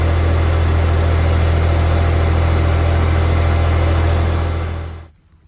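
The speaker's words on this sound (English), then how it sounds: "We got the bucket on the tractor loaded up with bricks for the cap. Headed down the road here" Loud, steady engine drone of a tractor driving down a road with its bucket loaded with bricks, a constant low hum that holds evenly and then cuts off abruptly near the end.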